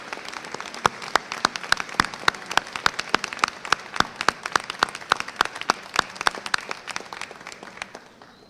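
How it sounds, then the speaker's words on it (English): Scattered, distinct handclaps from an audience at a university commencement, a fairly thin crowd clapping in uneven rhythm before tapering off near the end. "join me in giving applause to all these special family members and friends who have helped make this day"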